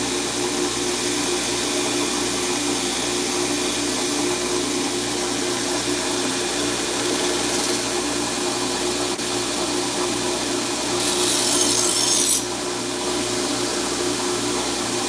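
A grinder works knife blades in a finishing pass, a steady, even whine and rush running unbroken, with a brighter, louder hiss for a second or so near the end.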